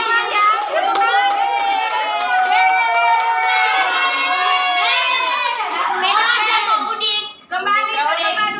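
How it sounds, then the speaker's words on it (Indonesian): A classroom of children cheers and shouts with claps mixed in, a loud, busy burst that keeps up for several seconds and then settles briefly near the end before rising again. "Tepuk tangan."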